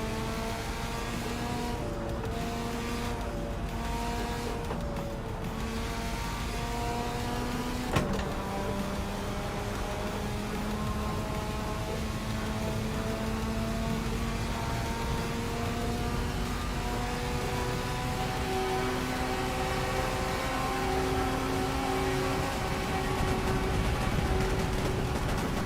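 Engine of a Skyline drift car in Assetto Corsa, modded, droning steadily with rising and falling harmonic tones as it accelerates through gears, continuous and loud for the whole stretch with a brief shift break early on.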